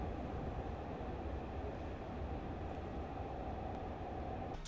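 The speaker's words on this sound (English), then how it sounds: "the mechanical buzzing and bobbing of the train car and the sound of coasting on the rails" An indie horror game's train car gives a steady mechanical buzz and rumbling roll of coasting on rails, a continuous, even drone with faint periodic clicks.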